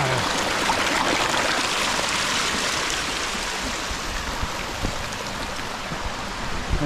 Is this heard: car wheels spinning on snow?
no